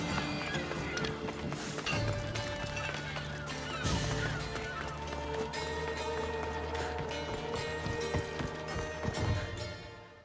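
A horse gallops in the video game Assassin's Creed Odyssey, rhythmic hoofbeats under a steady bed of game music, with a snort and a sharper thud partway through.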